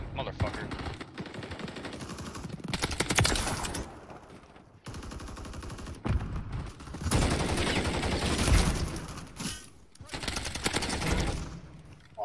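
Renetti pistol fire in the video game Modern Warfare III, repeated loud bursts of shots in several clusters separated by brief lulls, mixed with other in-game action and talk.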